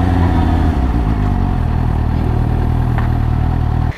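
A Suzuki motorcycle engine runs steadily and loudly at close range, a deep rumbling drone with no pause until it cuts off at the very end.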